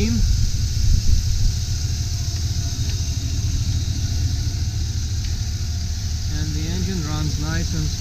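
A 2001 GMC Yukon XL SLT 4WD engine idles steadily with the hood open, a close, even low rumble that holds for the whole stretch; a voice speaks briefly near the end.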